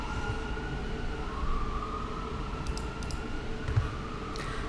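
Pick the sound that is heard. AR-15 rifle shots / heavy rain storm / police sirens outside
police sirens outside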